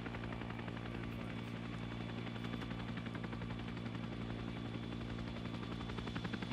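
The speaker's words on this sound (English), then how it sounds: "Chopper will be on the deck for a few minutes" A military helicopter sets down in an Arma 3 Vietnam-era mission near Da Nang, its rotor beating steadily with a dense, continuous whine and chop, constant and fairly distant throughout.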